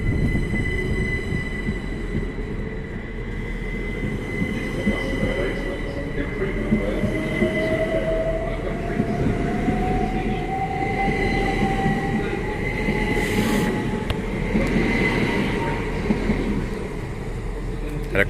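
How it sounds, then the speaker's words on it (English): A Great Western Railway 387164 electric train passes through Reading station, a steady, loud rumble of wheels on rail with a rising whine and a squeal, continuing for the whole stretch with faint talk in the background. "So here we have 387164 on the, I'm assuming, 1532 Great Western Railway service to London Paddington from Theale and not Newbury."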